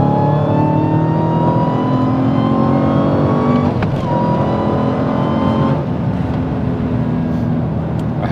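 Dodge Hellcat V8 engine revving loud and close, a steady roaring drone with rising and falling pitch that dips briefly around the midpoint, then carries on under a continuous exhaust rumble.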